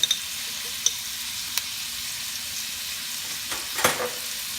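Pork belly with shrimp paste frying in a pan, a steady soft sizzle with a few faint stirring clicks and a brief scrape near the end.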